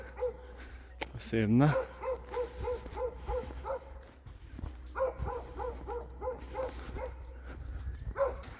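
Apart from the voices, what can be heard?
dog barking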